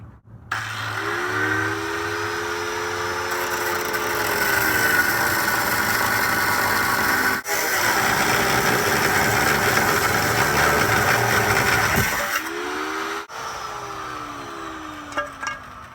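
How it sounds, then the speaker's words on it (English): A power tool cuts through a rusty steel bracket on a Nissan S13, a loud continuous grinding whine that holds steady for several seconds, dips briefly, then winds down with the motor pitch sliding near the end. "My idea is just to cut the bracket like right in front of the bolt."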